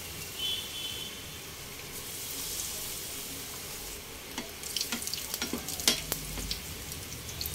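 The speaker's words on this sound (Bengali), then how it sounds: "গোল্ডেন করে ভেজে উঠিয়ে নেব।" Eggplant fritters (beguni) fry in hot oil with a steady close sizzle, joined later by sharper crackles and clinks from the pan.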